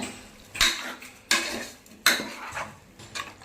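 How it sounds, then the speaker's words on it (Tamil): Metal utensil scrapes and clanks against a pan in a few spaced strokes, with a faint sizzle of chicken frying in oil underneath. "இப்போ நல்லா சிக்கனை நல்லா எண்ணெயிலே வதக்கிக்கலாங்க।"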